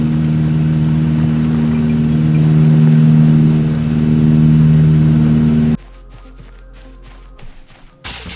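A car engine in Project Zomboid drones loudly at high revs in first gear for several seconds, then cuts out abruptly, leaving quieter mechanical clatter and brief bursts.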